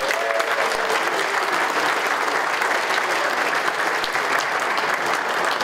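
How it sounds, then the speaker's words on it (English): An audience breaks into steady applause for sponsor AMD at a creative event, a dense wash of clapping that holds evenly at moderate distance throughout. "give a big round of applause to our main sponsor,"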